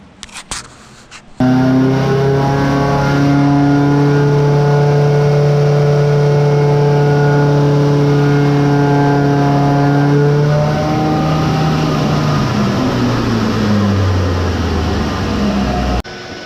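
A car engine on a dyno revs up to 4,000 RPM and holds there, a loud steady droning hum with strong harmonics that runs for about fifteen seconds before easing off, close and alone with no talk.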